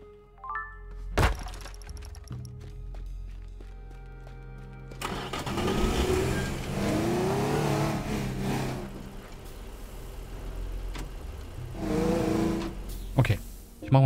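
A car engine in the game Teardown starts with a sharp thunk after a door closes, then revs and drives off with a steady mid-pitched drone that rises and falls, someone talking over it.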